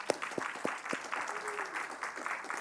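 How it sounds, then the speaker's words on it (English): Applause from a summit audience: a few sharp nearby claps stand out over a softer crowd of clapping, fairly faint overall, with a brief murmur beneath. "Can we have a round of applause for all the work they've done?"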